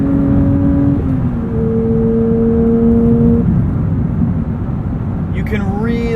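A 2023 Porsche 911 GT3 with a manual gearbox drones steadily from inside the cabin while driving, a continuous loud engine note with pitch shifting between gears and faint road rumble throughout.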